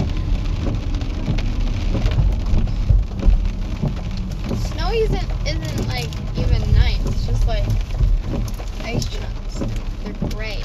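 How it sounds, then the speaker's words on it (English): Steady rain falling outdoors on a wet day of melting snow, a constant broadband hiss with scattered drop sounds running the whole time and no speech. "Good thing about this rain is it's got rid of all the snow"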